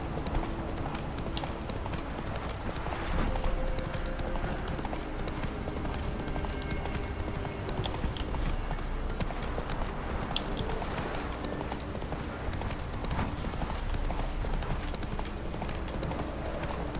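Roach, a horse in The Witcher 3: Wild Hunt, gallops with steady, continuous clip-clop hoofbeats over a dense game-world ambience, with a faint whinny in the mix.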